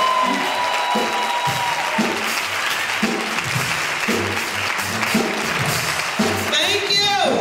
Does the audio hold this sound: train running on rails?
no